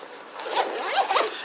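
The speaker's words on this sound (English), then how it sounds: "I do prefer the zipper on this one." The zipper on a HORI Tough Pouch for the Nintendo Switch is pulled along its track, a close, smooth rasping slide lasting over a second with a few quicker bursts near the end.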